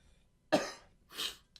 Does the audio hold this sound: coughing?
yes